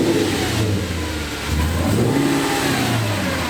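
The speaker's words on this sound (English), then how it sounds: "That is a sweet sounding exhaust, mate." An Audi RS4 fitted with a Stainless Creations exhaust revs close by, its engine rising and falling in repeated loud pulls over a deep rumble, with no talk.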